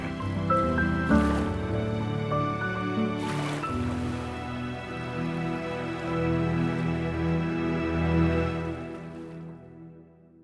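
Water sloshes and drips in a liquid-filled space, with wet squishing, trickling and gurgling movements, fairly close and continuous for about ten seconds with a couple of brief splashy bursts.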